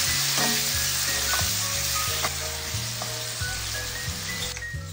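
Onion and bone-in chicken pieces sizzle loudly and steadily in a hot frying pan for arroz valenciana, with occasional scraping and stirring clicks over the constant close frying hiss.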